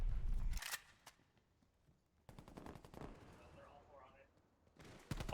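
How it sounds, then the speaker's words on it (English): Artillery strike and bursts of gunfire in a Call of Duty match, with a loud blast at the start, a quieter stretch, then rapid repeated firing, and voices under the action. "Artillery coming through from Apollo."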